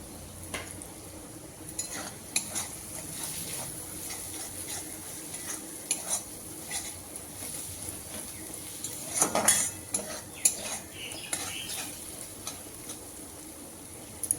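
A spoon scrapes and clinks steadily in a pan of masala as turmeric powder is stirred in for matar ghugni, with a soft sizzle underneath and a few sharper knocks.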